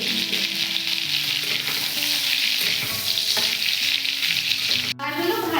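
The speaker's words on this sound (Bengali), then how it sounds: "এই দাঁড়াগুলো খেতে খুব ভালো লাগে, তাই আর বাদ দেয়নি, এগুলোও ভেজে নিচ্ছি" Crab claws fry in a pan of hot oil, producing a loud, continuous crackling sizzle with bubbling that stays dense from start to finish; a sharp brief clatter cuts in near the end.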